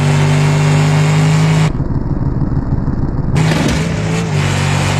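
A Mercedes-Benz car engine in BeamNG.drive roars loud and close, a steady revving hum that briefly muffles in the middle before returning at full volume.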